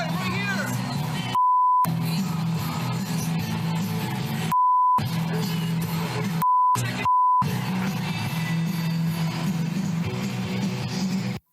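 Speech in a noisy crowd is cut four times by a steady electronic censor beep, each tone brief and loud, with the talk dropping out.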